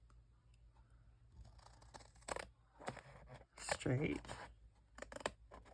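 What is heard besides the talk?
cutting paper in half with scissors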